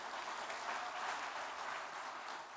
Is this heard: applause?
yes